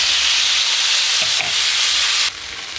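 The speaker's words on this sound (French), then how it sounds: "Vous voyez, ça frémit au fond de la poêle." Pork juices sizzle loudly at the bottom of a frying pan, a dense close hiss with a brief scrape midway, dropping in level near the end.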